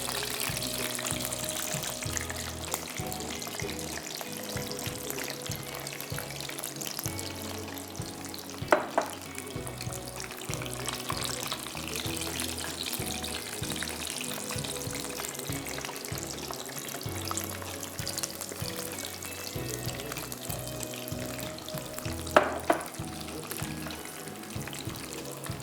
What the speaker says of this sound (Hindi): ब्राउन हमारे फाइनली फ्राइंग की तरफ आ गए